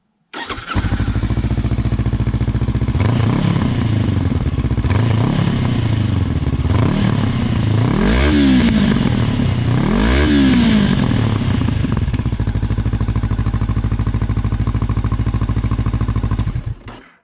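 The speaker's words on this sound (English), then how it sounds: "I'll go ahead and start it here at idle just so you can see" A 2019-2021 Honda CB500X motorcycle with a Leo Vince GP Corsa Evo aftermarket exhaust starts up and idles with a deep rumble, a few blips of revving rising and falling midway.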